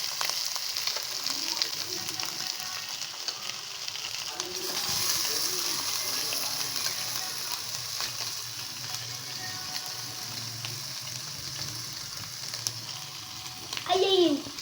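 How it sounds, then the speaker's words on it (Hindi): Chicken tikka frying in a pan, a continuous close sizzle with occasional stirring scrapes and a brief clatter near the end, no voice over it. "हम तकरीबन इसको 10 मिनट तक पकाएंगे, इसी में फ्राई करेंगे"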